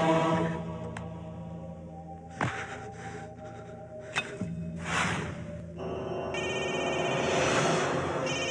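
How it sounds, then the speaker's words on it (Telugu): A telephone rings repeatedly with no answer, its bell bursts standing out clearly over a steady background of other sound, growing fuller and denser toward the end. "ఫోన్ ఎత్తటేట్రా?"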